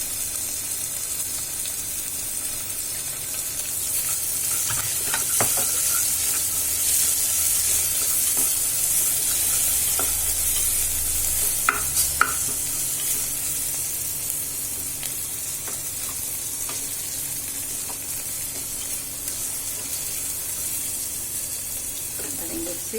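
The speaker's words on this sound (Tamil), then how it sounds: "ஒரு சின்ன தக்காளி, இதுக்கு கொஞ்சமாக உப்பு போட்டுக்கலாம். சீக்கிரம் தக்காளி வதங்கும், மெல்ட்டா." A small tomato with a pinch of salt fries in a pan, giving a steady close sizzle that runs throughout, with occasional stirring clinks and scrapes on top.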